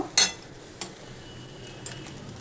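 Vegetable chow mein stirred in a pan: a sharp metallic clink of the utensil against the pan, then two lighter taps over a quiet kitchen background.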